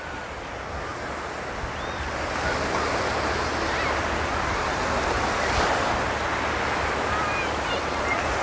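Sea surf rolling onto a crowded beach at Dzhemete, Anapa, a steady broad wash of breaking waves with some wind noise, growing slightly fuller after the first couple of seconds, with no talking.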